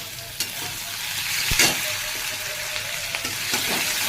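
Ginger sizzling in hot oil alongside garlic, cooked for a spicy momo chutney; a steady crackling fry with a few sharp stirring clicks and scrapes, close and fairly loud, no talking.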